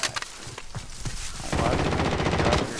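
Rapid automatic gunfire from the video game Call of Duty: Modern Warfare, first scattered shots and then a dense, loud sustained burst, with no talking.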